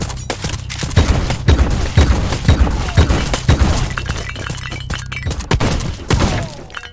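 A shotgun in the video game Black Skylands fires in a rapid run of about a dozen loud, sharp blasts with shattering debris, each shot punching through evenly spaced with brief rumbling decay between.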